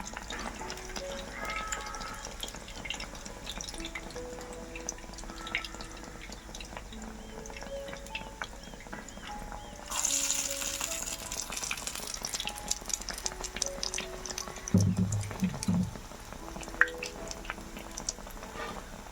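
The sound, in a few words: bread snack frying in oil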